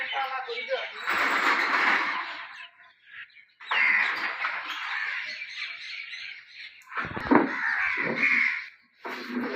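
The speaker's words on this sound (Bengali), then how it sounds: "উপরে, নিচে বিলবোর্ডের উপরে সব জায়গায় খালি পাখি ভরে গেছে আজকে।" A large flock of crows gathers around rooftops and a billboard, cawing loudly and repeatedly in overlapping bursts with short pauses, other birds chirping among them.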